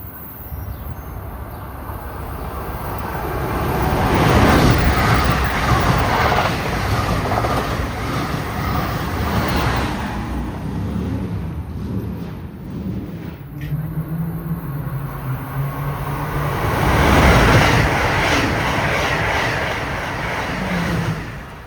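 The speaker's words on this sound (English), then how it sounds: "we've got an express train heading south." An express train on the Northeast Corridor rushes past a station in a long, loud, continuous roar with rumbling wheels and a brief rising tone, steady throughout without talk.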